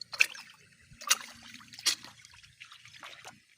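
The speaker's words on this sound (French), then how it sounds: "C'est l'eau qui est en train d'arriver, à venir là." Water trickling and splashing as it flows along a newly dug artificial river channel outdoors, with intermittent splashy bursts over a low background rumble.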